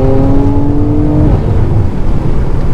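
Mercedes C43 AMG with a 390 hp turbocharged engine accelerating, its loud, close engine tone climbing steadily in pitch, then settling into a dense, rumbling roar with no talk.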